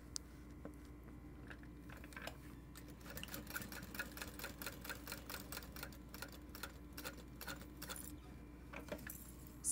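Fairly faint and close, a domestic sewing machine topstitches a garment in short bursts of rapid needle clatter with brief pauses between runs, no voices.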